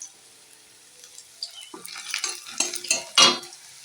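Onions and turmeric fry in a pan for a lentil dish, a quiet sizzle building into a run of close spatula scrapes and stirring clatters that grow louder toward the end.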